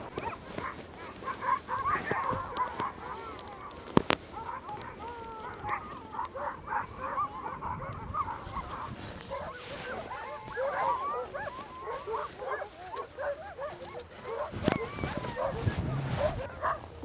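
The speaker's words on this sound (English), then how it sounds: "All the dogs." Sled dogs in thick snow bark, yip and whine in an excited, overlapping chorus that goes on without a break. People talk now and then over the chorus.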